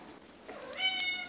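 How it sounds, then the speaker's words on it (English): A cat gives a single rising meow, close and clear, over a quiet room background. "Stupid cat."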